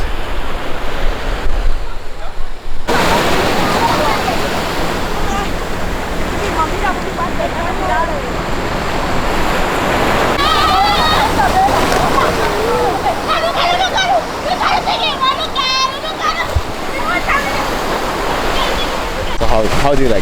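Ocean surf washing steadily onto a calm beach in Angola where locals are bathing, a continuous broadband wash with wind noise and distant voices of people in the water.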